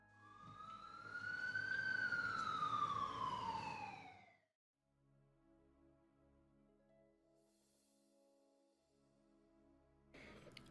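Ambulance siren wails loudly in a single rising and falling sweep for about four seconds, then cuts off, leaving low background hum with a brief noise burst at the end.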